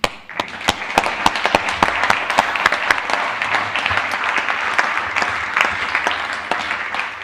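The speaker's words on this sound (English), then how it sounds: "Another big round of applause." Conference audience applause in the Hall of Mirrors, a loud, full burst of many hands clapping with sharp individual claps popping out close by, sustained and fairly even throughout.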